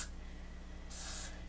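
Hair product is sprayed onto a synthetic wig. A soft hiss comes at the very start, then a second, slightly longer hiss follows after a pause, both quiet against a low background hum.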